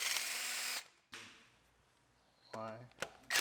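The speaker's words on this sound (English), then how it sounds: "And we can unbolt the drive axle." A power tool whirs in bursts while a drive axle is unbolted on a Yukon, with a loud initial run, a quieter spell, then ratcheting mechanical whines near the end, all close by.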